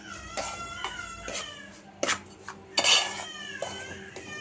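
Sajja flour laddu mixture and sugar stirred in a pan: quick scraping and clinking of a utensil against metal, with a cat meowing repeatedly and fairly close over it.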